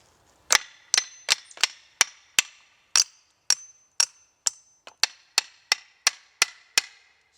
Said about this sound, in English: and then driving the wedge in